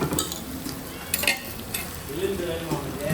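Chicken pieces coated in biryani masala sauté in a pan, giving a steady soft sizzle with scraping stir strokes and a brief clatter near the middle, close and moderate in level, with no talk.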